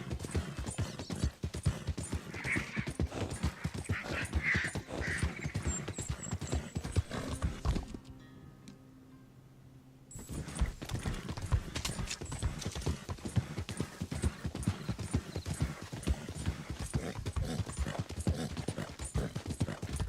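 Rhythmic, fast clip-clop of a galloping horse's hooves in the Red Dead Redemption video game, continuous and close, briefly dropping out for about two seconds before resuming at the same steady pace.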